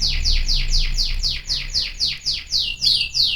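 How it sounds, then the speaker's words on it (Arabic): Sparrows chirp in a rapid, loud, regular series of bright calls, repeating steadily throughout, close by over a low background hum. "العصافير يعني لازم يسمعوكم تغريداتهم"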